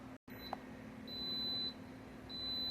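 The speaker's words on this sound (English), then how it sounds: "you hear that beep? That means the 30 minutes is up" Faint electronic beeps from a pressure cooker timer, two long high-pitched tones with a pause between, over a quiet steady hum.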